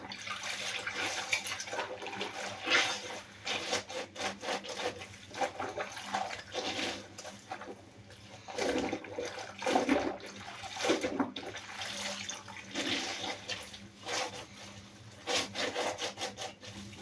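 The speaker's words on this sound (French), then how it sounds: "je vais finir de frotter un petit peu" Scrubbing with a cleaning product, a steady rough rubbing in repeated strokes with brief pauses, fairly close and moderately loud, with no voices.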